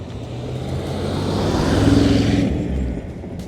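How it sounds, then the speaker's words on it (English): A 1954 Cadillac Coupe Deville cruising past with a smooth, low engine rumble that swells as it nears and fades slightly as it moves on. "54 Cadillac. Cruising by in relative comfort."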